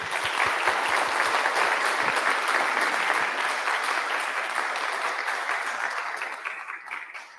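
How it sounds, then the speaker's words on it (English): An audience gives a round of applause after a talk on polarization in the United States, loud and dense at first, then gradually thinning and fading toward the end. "Can we give one more round of applause?"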